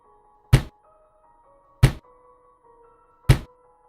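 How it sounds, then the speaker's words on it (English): Three heavy, evenly spaced thuds strike the walls and roof of a cabin, each a sharp, close, isolated impact over a faint steady hum. "The thuds echoed across the cabin, coming from every direction, even the roof"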